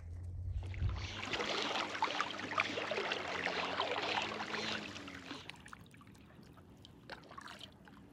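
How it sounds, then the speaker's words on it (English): Bubbling spring water along a paddling route through southern Oregon springs, a steady watery trickle and gurgle for about five seconds, then fading to a quieter background wash. "you can start to hear the bubbling in the background"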